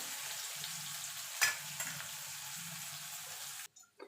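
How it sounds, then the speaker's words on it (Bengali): Pieces of bitter gourd fry in hot oil with a steady, close sizzle. A brief stirring clatter breaks in partway through, and the frying cuts off near the end. "দেখুন বন্ধুরা, উচ্ছেগুলো ভাজা হয়ে গেছে"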